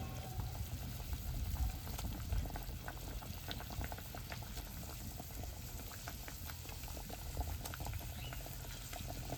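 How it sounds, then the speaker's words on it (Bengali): Mustard fish curry gravy boils in a pot over a village clay stove, with soft continuous bubbling and popping at a faint, even level throughout. "ঝোলটা ফুটে গেছে"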